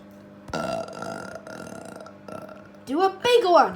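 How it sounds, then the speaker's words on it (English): A big, loud burp from Pumbaa of The Lion King ends a burping contest, rising sharply near the end after a stretch of voiced, belch-like sounds. "And the last big burp,"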